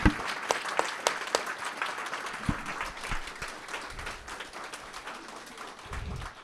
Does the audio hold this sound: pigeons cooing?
no